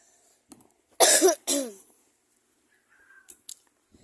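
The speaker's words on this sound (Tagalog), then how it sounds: "Lagi niyo na lang napapakinggan yung ubo ko" A person gives two sharp, close coughs in quick succession and then falls quiet, leaving only faint small noises in a mostly silent room.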